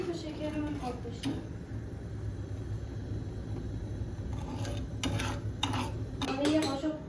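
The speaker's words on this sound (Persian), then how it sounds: "اینقدر هم می‌زنیم تا شکرمون آب بشه." A spoon stirs two spoonfuls of sugar in a pan on a lit gas stove to melt it, giving light metallic scrapes and clinks that come in small clusters over a steady low background hum.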